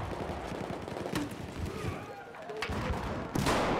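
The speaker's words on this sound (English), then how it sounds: "Stop shooting me." Gunfire in the Battlefield 4 video game on the Pearl Market map, with several sharp close shots and short bursts over a busy background, and someone talking through it.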